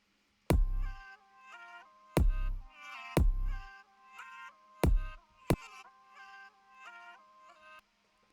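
A synth lead from an electronic track plays bright, harmonically rich notes, punctuated by several sharp percussive hits, in a short melodic phrase with no one talking.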